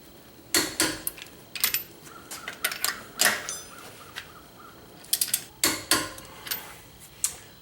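Sharp metallic clicks in scattered bursts as a torque wrench tightens lug nuts on a Jeep JK wheel hub with a Spidertrax spacer, the rotor held still by the brake; close, irregular clicks with short pauses between.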